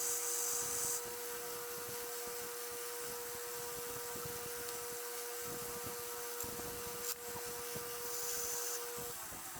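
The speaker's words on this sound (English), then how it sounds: "I just sand the ends off rather than going to the bandsaw" Ends of small knife scale pieces being sanded during an Uncle Henry knife repair, making a loud, continuous grinding whir with a steady motor tone that holds throughout, close and uninterrupted.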